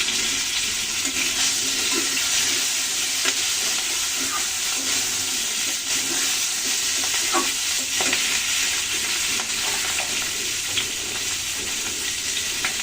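Tengra fish with tender vegetables, turmeric, cauliflower and potato frying in a pan, a steady broadband sizzle with scattered stirring scrapes and pops, close and continuous throughout with no talking.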